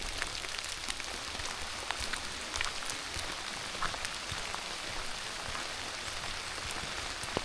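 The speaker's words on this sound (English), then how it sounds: "I think it's going to be raining like this the whole time." Steady rain falls during an evening hike along the Cahaba River riverwalk, a soft, dense patter of drops on surfaces with scattered sharper taps, continuous and without voices.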